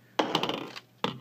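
Plastic parts of a Kyoryuger Plezu-Oh DX toy robot pop off with a rattling click, followed by a second sharp snap a moment later, close and fairly loud.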